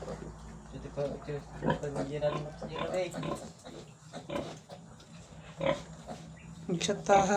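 Piglets on a pig farm oink and squeal repeatedly in a busy, overlapping chorus, with voices talking nearby throughout.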